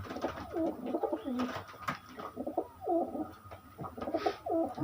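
Pigeons at a breeder's sale, including Kagji, Kalatka and Madras Girija types, coo close by in repeated throaty rolling calls that overlap almost continuously with no talking.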